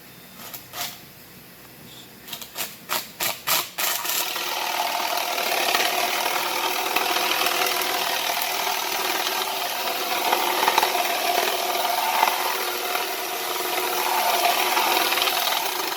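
A large piece of sandpaper rubbing inside the bore of a flute, starting with a few separate scratchy strokes, then turning into a steady, continuous rasping that runs close and loud.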